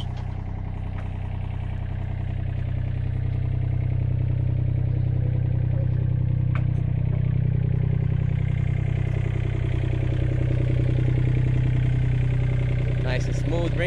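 A 2007 Komatsu PC27MR-2 mini excavator in Miami runs while swinging, its diesel engine a steady, close, loud throbbing drone with some clatter that holds through the whole stretch, with voices faintly present.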